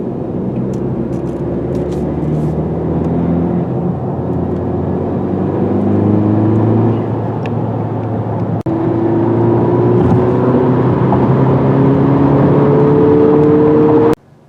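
A 2020 Honda Civic Si with a six-speed manual, driven hard: a sustained engine drone heard from the cabin, the pitch climbing steadily through long pulls with a brief break midway, loud and continuous, ending in a sudden cutoff.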